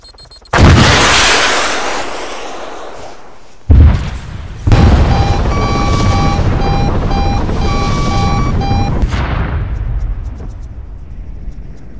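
A loud missile explosion in Arma 3 bursts out, fades, then a second blast hits and rumbles on under a steady tonal beeping, game-like and close.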